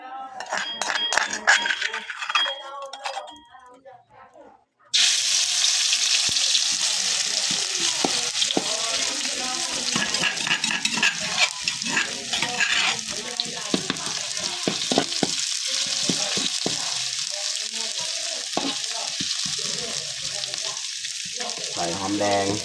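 Vegetables stir-fried in a pan with grilled chicken, Thai home cooking: after a short quiet lead-in, loud continuous sizzling with frequent clinks of a utensil against the pan, and voices talking at times over the frying.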